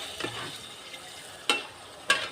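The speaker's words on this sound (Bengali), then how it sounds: "শাকে নেড়ে দিই" Greens frying in a pan while being stirred give a soft background sizzle, broken by a few sharp scraping clatters of the utensil against the pan, close and intermittent.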